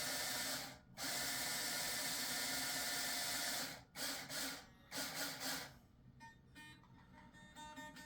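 Handheld guitar string winder cranking in a fast whirring ratchet, running steadily for several seconds with short pauses, then a few shorter bursts and quieter clicks near the end.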